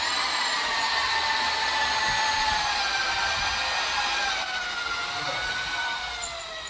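A carpenter bores a hole into wood with an auger-style drill, producing a loud, steady whirring grind with a high whine that holds for several seconds before easing slightly at the end.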